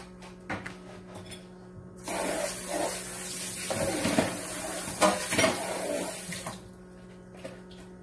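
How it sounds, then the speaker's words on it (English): Homemade vanilla ice cream base is stirred in a bowl before churning: close wet sloshing and swirling liquid with light clinks of a utensil against the bowl, starting after a quiet moment and fading near the end. "Before I do that, I want to give it a stir."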